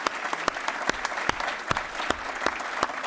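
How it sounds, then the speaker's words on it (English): Applause at an awards dinner, a crowd clapping steadily with a few sharp, louder claps standing out at regular intervals, close and continuous. "We can applaud them."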